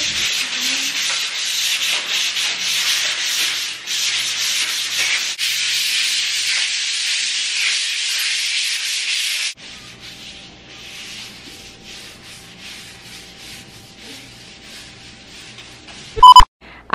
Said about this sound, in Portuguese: que eu vou fazer é lixar a parede todinha